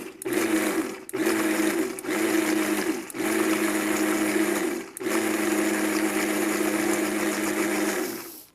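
A Vitamix Professional Series 500 blender pulses walnut basil pesto in a series of loud, close whirring bursts, with short breaks between them before one longer run, and no talking.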